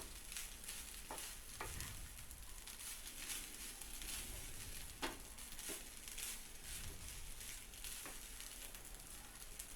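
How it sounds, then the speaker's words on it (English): Spinach rice coated in masala and ghee is stirred in a pan, giving a soft continuous sizzle with faint scraping and patter of the spoon, quiet and with no talking. "Mix well so that the rice is well coated with the masala."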